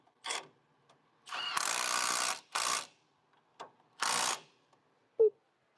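Half-inch drive ratchet clicking in short bursts of rapid pawl ticks, close and fairly quiet, while working on the front brakes of a 1978 Winnebago in a garage.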